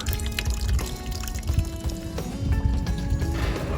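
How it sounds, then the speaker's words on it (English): Continuous rushing, splashing water from a hose flushing through a car radiator, pouring and gurgling steadily, fairly close, with a faint tonal hum in the background. "I will attach a hose to the top of the radiator and flush some clean water through it."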